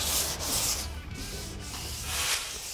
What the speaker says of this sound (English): as I sand over the front of that hood, I'm actually grabbing this block and bending it down to conform